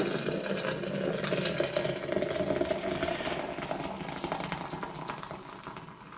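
Hot water pours steadily into a Secura French press, a continuous gurgling splash close by that stays even in level for several seconds with no talk.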